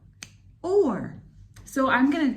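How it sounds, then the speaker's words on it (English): A single sharp finger snap during a children's phonics lesson, brief and close, followed by a teacher speaking. "Can you snap your fingers?"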